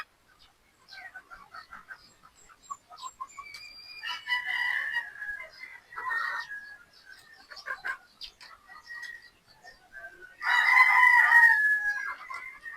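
Chickens and pullets at a poultry farm cluck and call in scattered bursts, with a loud, close crow rising near the end.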